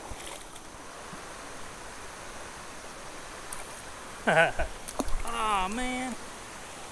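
A fast mountain stream swollen after rain rushes in a steady broadband wash, fairly distant, with someone talking briefly over it near the end.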